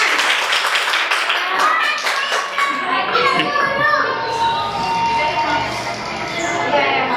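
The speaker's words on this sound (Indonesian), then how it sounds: "Tepuk tangan untuk si singanya." A group of kindergarten children in Indonesia clap their hands in a dense, uneven burst of applause mixed with excited children's chatter and shouts, loud and close throughout.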